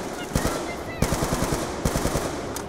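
Rapid automatic gunfire from guns in a Black Ops 2 Zombies round in the Die Rise map, heard as loud, steady bursts of close shots with brief breaks between them.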